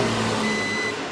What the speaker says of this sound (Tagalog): Nag-buzzer siya.